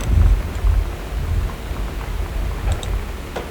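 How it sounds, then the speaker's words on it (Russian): Rain and thunder from the video game Gone Home: deep rumbling thunder rolls low and heavy at the start, then steady rain hiss continues with a few faint clicks near the end. "Блин, гром драный."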